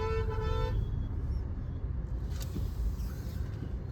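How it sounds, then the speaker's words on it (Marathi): Road traffic with a car horn sounding once for under a second at the start, over a dense, steady rumble of engines and road noise, somewhat distant and with no talking. "आता आपल्याला थोडीफार ट्रॅफिक लागली."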